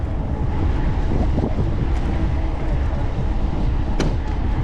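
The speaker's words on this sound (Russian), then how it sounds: "Да, ветер, блин" Outdoor wind gusts buffet the microphone on a December route between Adler and Sirius in Sochi, a steady loud broadband rumble with no pauses, a couple of brief sharp clicks standing out near the end.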